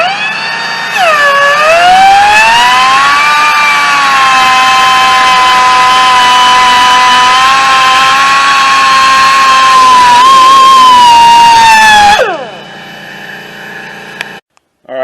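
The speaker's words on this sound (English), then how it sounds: "So I'm just going to go ahead and use a cutoff wheel and cut that off" A cutoff wheel slices through a lower ball joint on a 2005 Honda Accord, a loud, steady high-pitched whine that spins up, holds for about eleven seconds, then winds down and stops.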